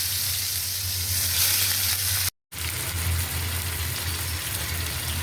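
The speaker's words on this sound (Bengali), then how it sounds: "তো বেশ আমি মাছটা বাজিয়ে নিই সরিষার তেল দিয়া" Rohu fish frying in mustard oil, a loud, dense, steady sizzle up close with a low hum beneath, briefly dropping out to silence for a moment before resuming.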